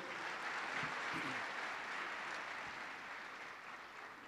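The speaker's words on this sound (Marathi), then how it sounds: "आपण खरंच जोरदार टाळ्यांनी स्वागत करू" An audience claps loudly in a sustained burst of applause to welcome a young IPS officer from Maharashtra at a public talk, the clatter dense and even before slowly easing off.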